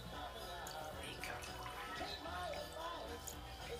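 Water poured into a glass for a guest at a table, a soft liquid trickle half-buried in busy room noise and nearby conversation.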